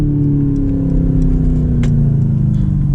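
A turbocharged Mercedes C63 AMG convertible engine runs loud and close, a steady droning tone that slowly drops in pitch as the revs fall, with a few faint clicks over it.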